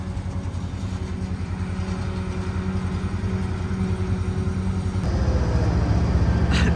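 A tractor works a hay field during hay chopping, its engine droning loud and steady from behind and growing a little heavier toward the end, with no talk.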